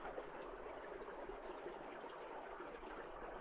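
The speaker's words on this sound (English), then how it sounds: "Water flowing directly below me, but nothing to be seen anywhere." A hidden stream flows beneath rocks and snow in the Cloud Peak Wilderness of Wyoming, a faint, steady, muffled rushing and trickling of water, heard alone with no voices.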